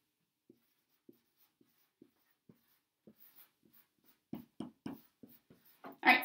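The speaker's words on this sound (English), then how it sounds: "So we write the symbols." Hand-writing chemical symbols for manganese oxide, a series of short scratchy pen or marker strokes, sparse and faint at first, then quicker and louder toward the end.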